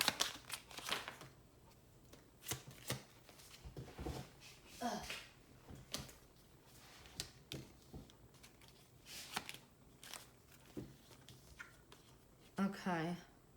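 Tarot cards are handled and shuffled in quick, soft riffles and taps, close and quiet, with bursts repeating throughout and a person talking now and then.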